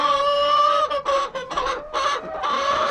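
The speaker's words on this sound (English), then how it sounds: "My noisy Rhode Island Red right there." Rhode Island Red hens clucking and squawking inside a chicken coop, a loud, near, continuous run of nasal cackles and calls with brief dips between outbursts.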